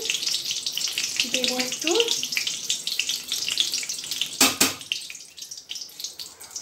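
Whole cinnamon, cloves, cardamom and a bay leaf fry in hot oil with a steady, close sizzle. A voice speaks briefly over it, and a sharp clatter cuts in near the end.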